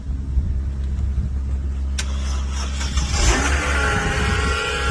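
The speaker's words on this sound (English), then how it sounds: "He's starting up the cars" A car engine starts and revs, a deep steady rumble that swells into a louder, brighter revving after a sharp click, heard close with no talk.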